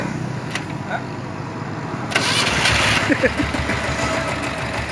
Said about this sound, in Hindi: देखिए इशारों से गाड़ी स्टार्ट हो रही है